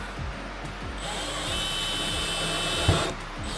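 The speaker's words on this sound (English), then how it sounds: "Now we're just going to drill a little bigger hole." A power drill whirs steadily, boring a hole in a 2025 Jeep Gladiator to mount rock lights, with a few clicks and knocks at the start and a sharp tap near the end.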